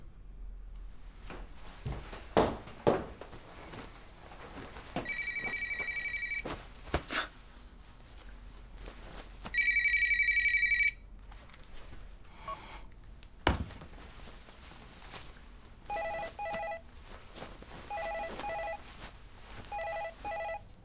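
A telephone rings indoors in repeated electronic bursts separated by pauses, fairly faint and alone with no one speaking.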